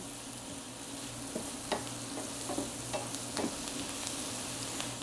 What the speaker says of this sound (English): I'm going to mix the 3 cheeses in with the eggs